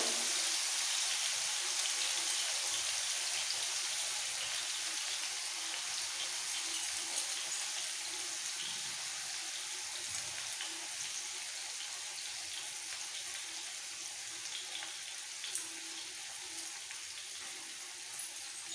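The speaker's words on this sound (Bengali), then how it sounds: "চিকেন দেওয়ার পর গ্যাসের ফ্লেমটাকে মিডিয়াম টু লো রেখে এটাকে ফ্রাই করবো" Chicken breast frying in masala in an open pan over a medium-low gas flame, giving a steady, gentle sizzle with scattered light pops that fades slightly over nearly twenty seconds, with no talk.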